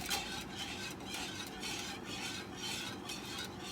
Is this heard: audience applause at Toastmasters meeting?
no